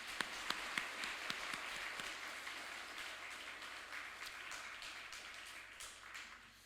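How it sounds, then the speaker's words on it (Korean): A church congregation applauds during a service, opening with a few sharp isolated claps before settling into soft, steady clapping that sounds somewhat distant and fades slightly toward the end. "우리 하나님께 영광의 박수를 올려드리겠습니다"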